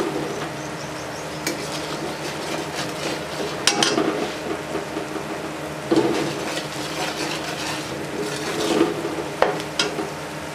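Potatoes, black-eyed peas and garam masala are stirred and fried in a pan: a steady close sizzle with repeated scraping strokes of a spoon and a few louder stirring bursts, no talking.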